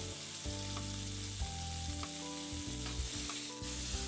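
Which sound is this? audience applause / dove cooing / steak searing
steak searing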